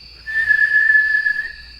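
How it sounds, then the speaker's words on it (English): One person whistles a single clear, sustained note that lasts just over a second, alone against a quiet background. "And that's when they do a whistle."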